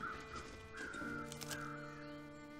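Crows in The Long Dark's outdoor wilderness give a few harsh, rasping caws in succession, moderately close against a steady ambient hum.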